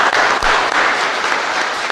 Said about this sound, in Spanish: Un fuerte aplauso entonces para toda nuestra comunidad.